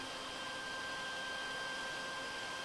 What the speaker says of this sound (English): So we'll just hit the vacuum and suck up all this metal.